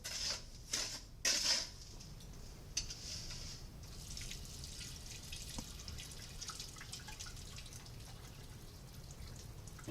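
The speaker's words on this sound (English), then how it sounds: "Continue agitating and decanting over your sieves." Water is poured off an asphalt sample and decanted over sieves, with a few splashy pours at the start followed by a steady, faint trickle and drip.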